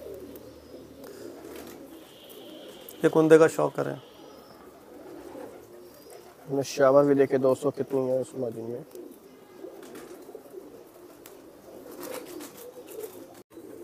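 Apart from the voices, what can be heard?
Salara pigeons cooing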